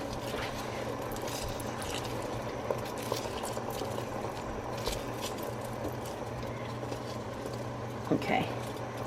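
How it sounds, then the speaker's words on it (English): Cranberry sauce heating in a pot on the stove just short of boiling, a faint steady bubbling and low simmer, with a brief clink near the end. "This thing sounds like it's about to boil."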